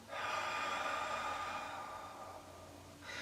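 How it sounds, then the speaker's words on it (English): A deliberately exaggerated, loud exhale through the nose or mouth, one long breathy rush lasting a few seconds, close to the microphone, followed by the start of another breath. "So I'm breathing more loudly for the purposes of this film."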